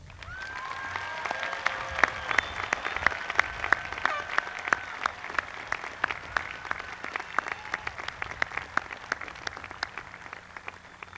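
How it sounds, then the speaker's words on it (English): Sustained audience applause at a high school graduation, dense and steady clapping from a sizable crowd throughout, with no talking over it. "deserves a hearty round of applause"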